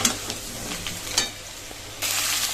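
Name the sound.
potatoes frying in oil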